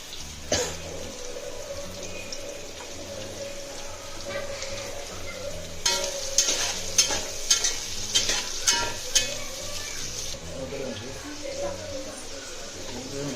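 Sliced onions and green chillies fry in a pan with a constant crackling sizzle and bursts of stirring, while a person talks over the cooking.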